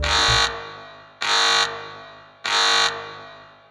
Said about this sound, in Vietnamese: Vẫn là tiếng chuông báo thức quen thuộc, nhưng lần này có vẻ lạ.